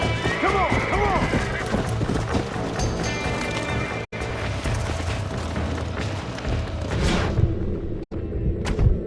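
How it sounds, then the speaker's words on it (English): Horses in the Red Dead Redemption video game whinny sharply near the start, then clopping hooves and heavy crashing thuds follow, loud and close throughout. "We got some fine horses."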